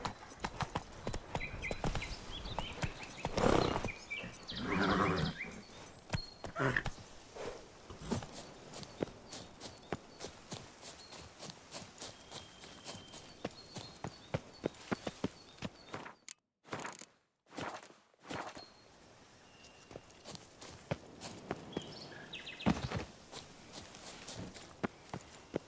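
Horse hooves clip-clop steadily through a ride in The Witcher 3, a continuous close rhythm of footfalls with a brief drop-out midway before the gait resumes.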